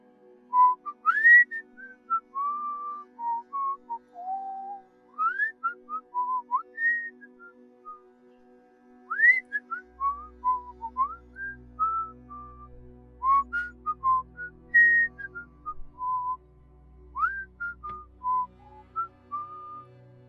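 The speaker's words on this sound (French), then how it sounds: "nous avons entendu le sifflement" Melodic whistling phrases rise and fall in repeated bursts, clear and fairly near, with a low rumble creeping in underneath partway through.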